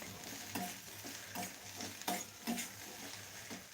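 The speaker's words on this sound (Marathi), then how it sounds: "भेंडी फोडणीमध्ये घातली याला हलवून घेते व्यवस्थित" Quiet sizzling of okra frying in a spiced oil tempering in a pan, with repeated scraping and stirring strokes of a spatula at an uneven rhythm.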